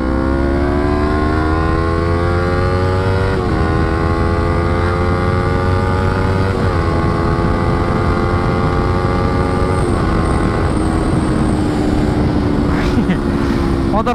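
A motorcycle engine on a reservoir-side racing track, loud and close throughout, climbing steadily in pitch through each gear with brief dips at the shifts, under rushing wind noise.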